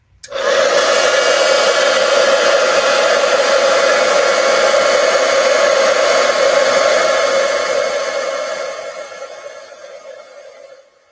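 Heat gun melting embossing powder on a handmade card, a loud steady blowing hum that starts suddenly and fades out gradually near the end, with no voices.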